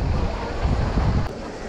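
Strong wind blows by the sea in Sudak, Crimea, a steady, loud, rumbling buffet across the microphone with a faint wash of surf beneath.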